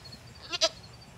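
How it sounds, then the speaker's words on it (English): Two goats give a pair of quick, close bleats in their pen, the second louder than the first, against quiet background hiss. "here's the goats"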